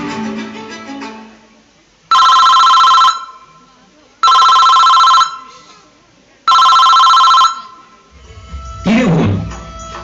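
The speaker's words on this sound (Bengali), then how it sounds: "বোন অসংখ্যবার ফোন করে তার দাদাকে কিন্তু কিছুতেই ফোন ধরে না দাদা" A phone rings in three loud, evenly spaced bursts with pauses between them, and the call goes unanswered. Faint background sounds fill the gaps before a brief rustle at the end.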